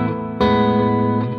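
Electric guitar played through a Yamaha THR amp with a tape echo delay effect, a sustained chord ringing with a new strum that blooms into a smeared, repeating tail, alone and loud.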